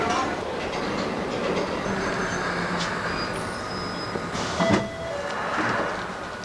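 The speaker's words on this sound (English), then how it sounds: "This train terminates at High Barnet." A London Underground train at Kentish Town station rumbles steadily on the rails, with brief clanks and a door-like burst near the middle, under low background noise.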